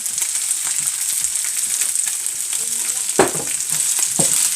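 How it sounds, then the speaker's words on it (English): Leftover rice frying with teriyaki sauce in a hot pan, a continuous close sizzle with occasional scraping stirs toward the end, no talking. "we are just going to heat the rice"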